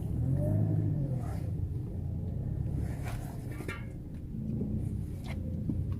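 A 2021 Toyota Hilux engine rumbles and revs at low pitch as the pickup is driven slowly into place, close and fairly loud, easing off midway and then picking up again with some clatter.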